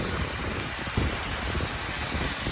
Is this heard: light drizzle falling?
yes